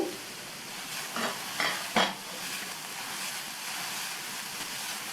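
Chopped vegetables sauté in a pan for an instant rava dosa, giving a steady soft sizzle throughout, while a spoon stirs and scrapes through them in a few short bursts early on.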